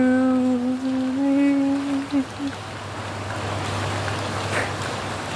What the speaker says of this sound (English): It's a morning rain walk